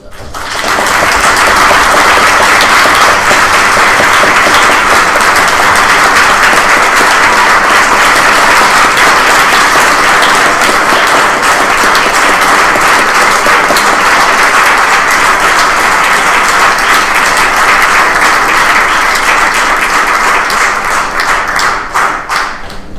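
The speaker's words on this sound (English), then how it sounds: "Please give a round of applause for our legacy builders." Sustained audience applause at a civil rights symposium, dense steady clapping from a large crowd that holds loud and unbroken throughout before tapering slightly at the end.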